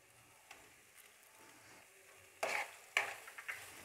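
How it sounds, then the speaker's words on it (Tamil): Bread halwa with almonds, cashews and pumpkin seeds stirred in a pan, giving soft scraping and faint sizzling, then two louder spoon-against-pan scrapes and a few lighter knocks near the end, with no talking. "இப்போ எல்லாத்தையும் நல்லா மிக்ஸ் பண்ணிக்கலாம்."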